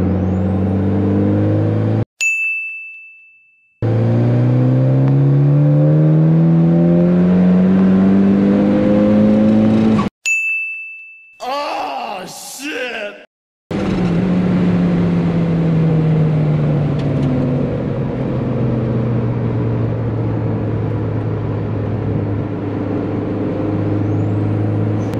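A turbocharged Mazda Miata with a BP4W head swap, built to about 400 hp, pulls hard in fifth gear on an open road. Its engine drones loud and close, the pitch climbing steadily, with two brief dropouts partway through.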